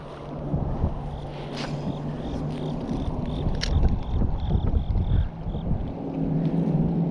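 Wind on a lake during bass fishing roars steadily and buffets the microphone in rumbling gusts, with faint water and boat noises underneath.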